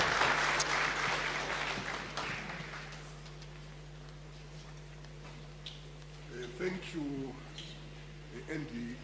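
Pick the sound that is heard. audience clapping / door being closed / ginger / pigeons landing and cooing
audience clapping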